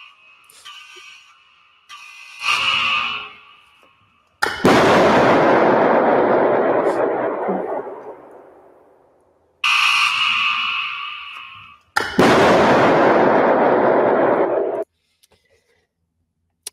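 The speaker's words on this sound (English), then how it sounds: "Here's a video of an iPhone being induced to explode." An iPhone induced to explode, played from a recording: loud bursts of hissing, roaring combustion with sharp onsets and long decaying tails, several separate blasts, plus a high whining tone between bursts.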